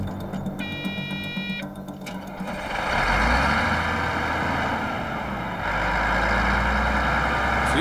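Heavy mining machinery engine starting at full throttle on a test site, a rough broadband roar that builds after about three seconds and holds loud and steady, with mechanical whine and rattle above it.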